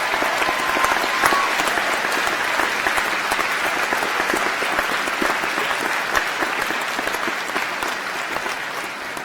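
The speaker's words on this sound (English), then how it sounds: "round of applause." Audience applause for graduates at a university graduation ceremony, School of Arts and Media; a large crowd claps steadily and loudly, with some sharper individual claps, gradually softening toward the end.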